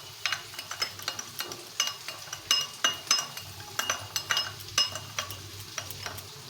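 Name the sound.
mixing soy sauce and vinegar in a bowl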